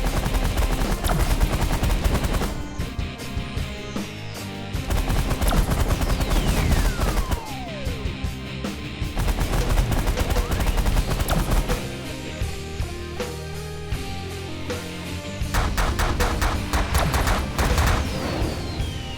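Waves of weapon fire in the space strategy game The Last Federation: dense, continuous rattling bursts of shots and booms layered over each other for the whole stretch, loud and near with no talk.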